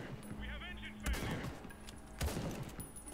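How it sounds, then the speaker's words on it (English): RPG and weapon fire in the video game Fallout: The Frontier, with two heavy low booming blasts about a second apart amid scattered shots, fairly faint and mixed with game sounds. "That's just actually an RPG, okay."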